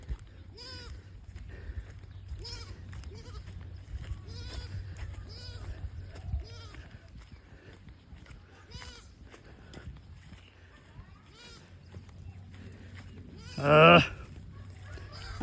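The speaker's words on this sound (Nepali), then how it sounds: "बाख्राको बच्चाहरू यस्तो छ" Goats and young kids on a farm path bleat in short, repeated calls throughout, with one louder, nearer bleat standing out near the end over low background rumble.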